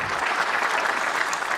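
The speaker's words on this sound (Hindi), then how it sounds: "ताली बजा दीजिए एक बार, मैं शुरू हो जाऊं।" Applause from an audience at a Hindi comedy poetry show, a dense, even wash of clapping that holds steady and close throughout.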